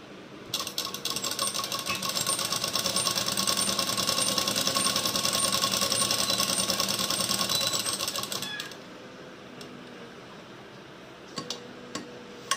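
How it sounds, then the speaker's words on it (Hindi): A sewing machine runs steadily for about eight seconds, stitching the fitting seam on a blouse sleeve with a fast, even mechanical chatter. It then stops, leaving a few faint clicks and handling sounds. "अब मैं इसमें फिटिंग की सिलाई लगाऊंगी स्लीव की।"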